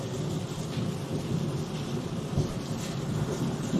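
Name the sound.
rain falling during a thunderstorm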